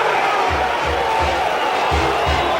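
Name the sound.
sellout stadium crowd cheering at Notre Dame Stadium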